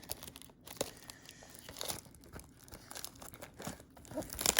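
Wrapper of a 2020 Chronicles football card hobby box being torn and crinkled, a run of sharp, close plastic crackles and rips in uneven bursts.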